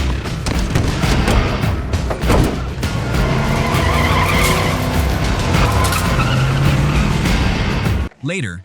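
Tires squeal and skid loudly as a stolen car makes a getaway, a long continuous screech mixed with engine roar and crashing booms, with shouted voices over it.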